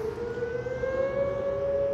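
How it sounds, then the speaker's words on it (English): An Oklahoma civil defense siren sounding at noon, a steady sustained wailing tone that holds loud and unbroken throughout, with no talking. "If you're in the Oklahoma state, you know what the sirens is."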